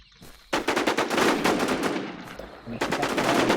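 Rapid automatic gunfire from a video game shooter, loud and sustained in dense bursts with a brief pause before firing resumes.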